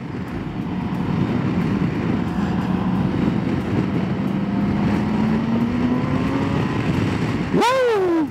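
BMW K 1600 B touring motorcycle engine running loud and steady, its pitch climbing slowly as it pulls in second gear, followed by a sharp rising rev near the end.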